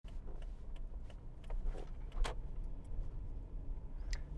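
A car driving on the road with a radar detector running, a steady low in-cabin road rumble with scattered faint ticks and clicks, no talking.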